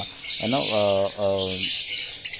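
African lovebirds in an aviary give a few nasal, squawking calls with a harmonic, buzzy tone, close and moderately loud over a hissy background.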